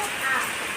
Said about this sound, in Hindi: कितनी तेज़ बारिश होने लग गई